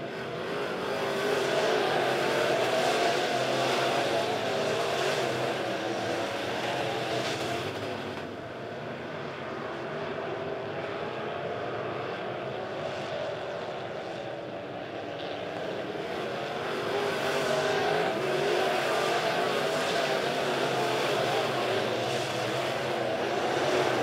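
USRA B Modified race cars at Lebanon Midway Speedway roar around the dirt track in a continuous, loud engine drone that swells and eases as the pack passes, with no clear talk.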